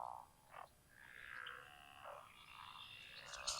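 Frogs croak outdoors at night in a soft, steady chorus of scattered calls, faint and somewhat distant, with no voices.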